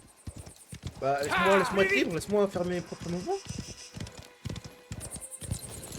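Horse hooves clip-clop in a rapid, steady rhythm through the video game Mafia: The Old Country, close and crisp, running under a voice speaking loudly in the first half and continuing alone afterward.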